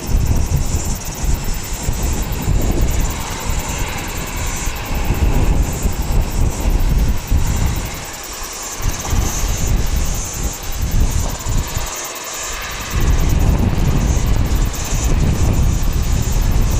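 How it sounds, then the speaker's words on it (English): Twin turboprop engines on an ATR airliner bound for Christchurch spool up at Wellington Airport, a loud, steady broadband roar with a rising whine that holds throughout, briefly dipping twice before surging louder near the end. "currently looking at this ATR going to Christchurch. It's about to start up really soon"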